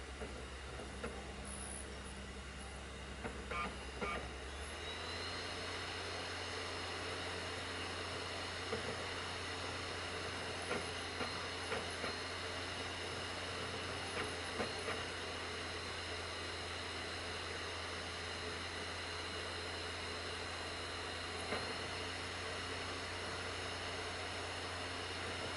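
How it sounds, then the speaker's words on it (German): An Xbox One X slot-in disc drive runs with a steady mechanical whir and hiss, shifting into a deeper continuous hum after a few seconds, with faint high-pitched incidental noises and occasional soft clicks, quiet and without talking. "aber das Slot-In-Laufwerk erzeugt das typische Geräusch, wie man sie von Spielekonsolen her kennt"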